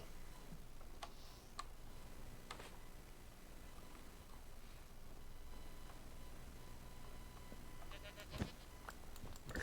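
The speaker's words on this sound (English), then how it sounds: "There's goats." Goats bleat in Minecraft, short faint calls scattered over a soft ambient backdrop with light ticking, and one sharper bleat near the end.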